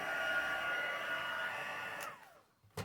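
A hair dryer blows on junk journal pages with a steady, close, airy roar, then switches off and its whine winds down, followed by a couple of brief clicks.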